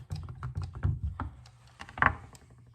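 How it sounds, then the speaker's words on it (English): A knife cutting a block of Colby Jack cheese into cubes on a board, a quick irregular series of soft taps and knocks, close and fairly quiet, with one firmer thunk. "we're gonna cut this into cubes."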